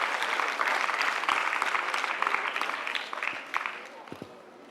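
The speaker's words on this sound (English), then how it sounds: "Please welcome him with a clap again." Audience at an anniversary celebration claps to welcome a speaker, a dense round of applause that gradually thins and fades toward the end, with a few last scattered claps.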